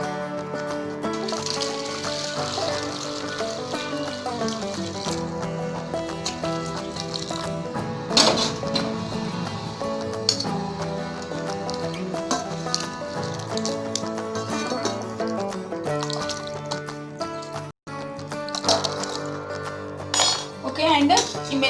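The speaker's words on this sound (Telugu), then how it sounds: "ఆ వాటర్తో కడిగేద్దాం." Mutton pieces washed by hand in a vessel of boiled turmeric and salt water, giving steady clinks and light splashes throughout, with a person talking over it.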